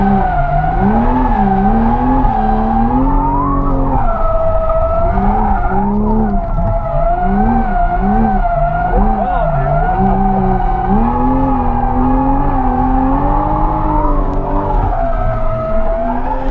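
A 2020 Toyota Supra drifts in tandem, its tires squealing in long wavering howls over a loud, steady engine roar heard close up throughout.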